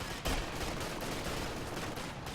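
Carbine fire in the Company of Heroes 2 strategy game, dense overlapping shots crackling in rapid bursts with faint battlefield noise, heard at a distance.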